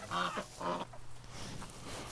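Ducks quacking on fresh straw in a cold winter pen, several harsh nasal calls in quick succession, moderately close and fairly quiet.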